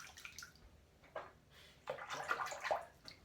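A safety razor blade is dipped and swished in water, producing soft splashing and rinsing bursts that swell toward the end, close and fairly quiet.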